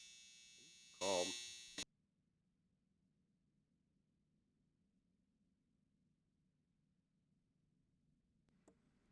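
A clothes dryer's end-of-cycle buzzer blares once, a loud harsh buzz lasting under a second, then cuts off into near silence with a faint hum.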